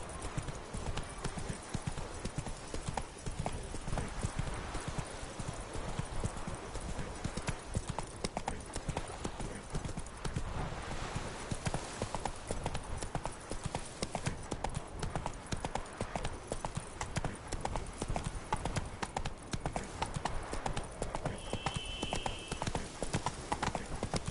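Horse hooves clip-clop steadily throughout in a PS4 video game, a continuous close rhythmic trotting under game ambience, with a brief whinny-like tone near the end.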